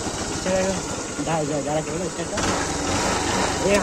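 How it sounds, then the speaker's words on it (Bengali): A motorcycle engine idles and runs with its stock exhaust fitted in place of an SC Project pipe, a steady mechanical drone heard close and loud under continuous talking. "তো এসি প্রজেক্ট হাঁটাই দিয়েছি। হ্যাঁ তো ঠিক আছে, স্টার্ট কর। কেমন আওয়াজ করছে দেখি এবার।"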